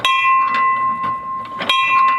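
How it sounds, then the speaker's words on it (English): A small bell on a model train, pulled by a rope, rings several times in quick, uneven strokes, each bright tone ringing on with a steady sustained note in between. "this rope here, actually you can pull it on the inside and make the bell go"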